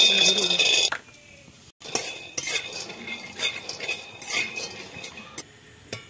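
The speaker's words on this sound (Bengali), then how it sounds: "আর এদিকে আমি উনান জালে একটু বাদাম দিব, বাদামটা ভেজে নিই।" Peanuts being dry-roasted and stirred in a pan over a stove, with clinking scrapes of utensil against metal and pauses between stirs; a voice talks intermittently over the rattling.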